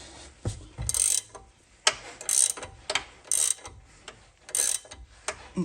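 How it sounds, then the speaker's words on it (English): A ratchet spanner works a subframe bush rod on a Volvo V70 in repeated bursts of rapid clicking, about five strokes with brief pauses between, close and clear. "I'm using a ratchet spanner, which perhaps doesn't give as much torque as it'd be good to have"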